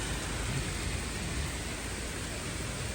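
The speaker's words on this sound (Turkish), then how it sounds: "Yine yağıyor bak" Steady rain falling outdoors in a garden during a storm, a dense even hiss filling the whole stretch at constant level, with no talk.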